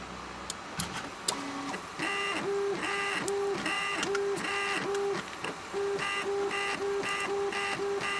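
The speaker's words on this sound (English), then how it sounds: "been doing a lot of printing today, especially at 180 millimeters per second print speed" An Ender 3 3D printer runs at 180 mm/s, its stepper motors whining in a steady, rhythmic pattern of repeating tonal sweeps and short pauses as the print head moves back and forth, close and continuous.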